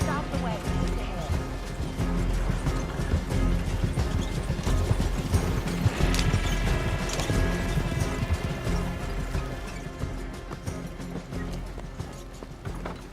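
Horse hooves clip-clop steadily as a horse-drawn wagon rolls along in Red Dead Redemption 2, with creaking wheels and rattling mechanisms throughout and character voices talking over the ride.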